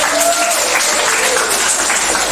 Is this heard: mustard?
no